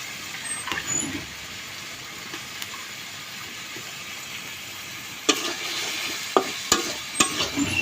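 Washed fish stirred into frying spice masala for a five-fish mashkalai dal, a soft sizzle with occasional clatters of a spoon, louder stirring knocks near the end, no voices.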